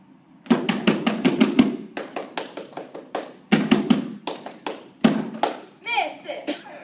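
A school basketball cheer squad from HHS claps in quick patterned bursts, bright close hand slaps in rhythmic clusters separated by brief gaps, with youthful chanting voices mixed in.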